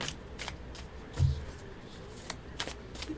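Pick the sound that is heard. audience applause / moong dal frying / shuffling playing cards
shuffling playing cards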